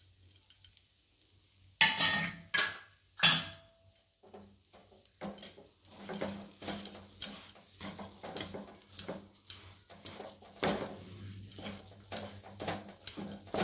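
Spiced green pea filling for Bengali koraishutir kochuri is stirred in a pan, a close series of soft scraping strokes and light clinks with a faint sizzle beneath, steady and fairly quiet after a few sharper knocks.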